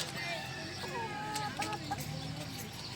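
Chickens cluck and chatter nearby in short, overlapping bursts, with a person speaking faintly in the background.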